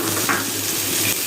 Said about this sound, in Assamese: মাছৰ কণীখিনি দিয়াৰ পিছত আপোনালোকে এনেদৰে লৰাই দিব, যাতে লেচেৰাখিনিত মাছৰ কণীখিনি লাগি যায়।